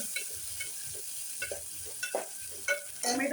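Tomatoes go into a hot pan of browned onions and ginger for masoor dal, giving a soft steady sizzle with light stirring taps and a brighter crackle near the end, close and without speech.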